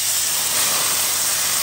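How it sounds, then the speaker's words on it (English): Water poured into a hot pan of charred cabbage hisses as it turns to steam, a loud, steady broadband sizzle that holds without a break from start to finish, with no talking over it. "As the smoke starts to come, we're gonna add in about 4 tablespoons of water. And we're gonna trap it."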